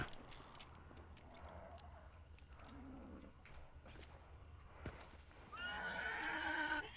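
A horse in the video game Hunt: Showdown gives a loud, whinnying neigh near the end, after several seconds of faint clatter and small in-game noises.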